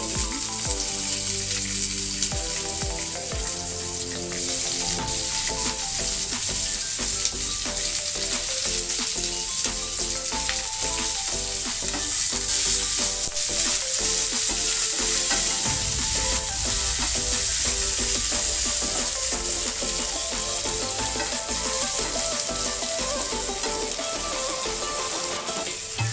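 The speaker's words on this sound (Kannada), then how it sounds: "ಈಗ ಈರುಳ್ಳಿ ಹಾಕ್ತಾಯಿದ್ದೀನಿ." Onions fry with mustard seeds, cumin and green chillies for tomato curry, a loud dense crackling sizzle that runs on steadily for a long stretch with occasional stirring clatter.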